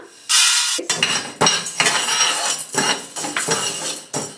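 Roasted toor dal scraped from a pan onto a plate with a metal spoon, a series of close, loud clinks and scrapes of metal on metal in an irregular rhythm, without talking.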